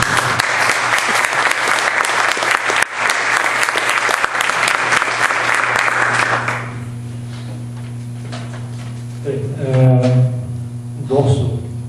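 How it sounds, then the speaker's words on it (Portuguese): A dense round of audience applause at a Belo Monte debate fills the first half, loud and sustained, then stops abruptly, leaving room hum and a few faint voices. "salve de palmas"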